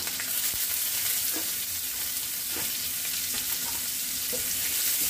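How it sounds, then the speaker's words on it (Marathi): Curry leaves, green chili and onion frying in oil with cumin and mustard seeds, a dense, even sizzle heard up close, broken by occasional light spoon taps while stirring, with no speech. "कढीपत्ता टाकूया हिरवी मिरची आणि कांदा"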